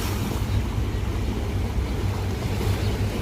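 Sea waves wash the Aegean shore at Izmir, a steady broad rushing surge with constant low rumble and wind buffeting the microphone, no pauses or talk throughout.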